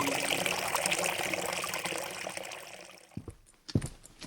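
Water splashing and trickling as a man bathes in a forest stream, a steady wash of flowing water that thins out near the end into a few separate close splashes and drips.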